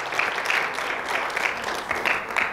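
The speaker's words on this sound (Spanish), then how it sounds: "Dese un aplauso." A congregation at a Christmas church service claps steadily and continuously, a dense patter of hands that swells slightly in bursts, with no voices standing out.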